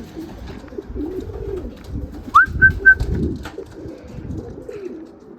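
Racing pigeons returning to the loft coo in low, rolling murmurs that pulse on and off, with a brief clear whistled bird call standing out near the middle against quiet outdoor background.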